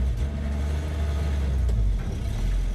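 A 1966 Dodge D200 3/4-ton Sweptline pickup pulls away in first gear, its engine a deep steady rumble heard from inside the cab, loud and continuous with a slight rise in effort.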